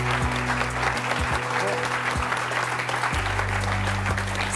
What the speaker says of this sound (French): Je vous demande de l'applaudir très fort, Steve.